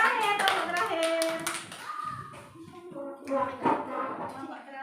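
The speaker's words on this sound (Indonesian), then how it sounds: "tepuk terakhir" Children clap in rhythmic patterns at a school gathering, short bursts of hand claps mixed with kids' chanting voices and an adult leading, fairly close and lively.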